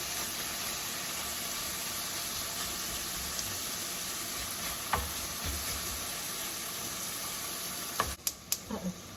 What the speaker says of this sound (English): And we're going to also add some diced onion. And we're going to give that a mix here.